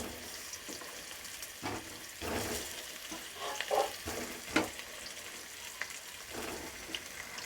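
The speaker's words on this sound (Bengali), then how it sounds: "আমি এটাকে এবার একটু আলুগুলোকে একটু ভেজে নেব, হালকা ভেজে নেব" Boiled potatoes fry lightly in a pan, a soft low sizzle broken by occasional spatula stirs and scrapes, close but fairly quiet.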